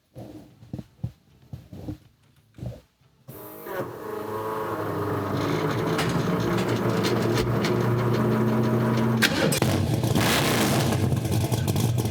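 A car engine cranks and catches after a few short clicks and bursts, then settles into a loud, steady running idle close by with no talking.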